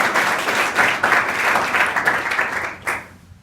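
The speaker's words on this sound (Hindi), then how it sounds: "तो एक जोरदार ताली बजाएं।" A school audience claps loudly and densely for about three seconds, the applause tapering off abruptly near the end.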